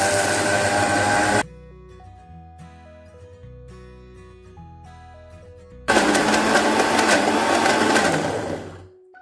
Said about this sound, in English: Now we shall grind the mixture for our vadas and check how fine it has ground.